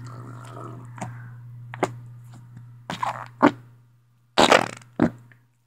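Store-bought slime squelching out fart-like noises as it is pressed and squeezed, several short wet bursts and pops, some loud and close, over a steady low hum.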